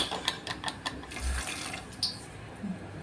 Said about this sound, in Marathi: त्यात थोडंसं आपल्याला अर्ध वाटी पाणी टाकायचं छान हलवून घ्यायचं आहे